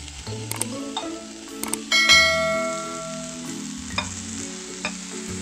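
Chopped tomato goes into a pan of frying radish for a mint radish chutney, sizzling steadily with several sharp metallic clinks and a brief ringing tone as it is stirred.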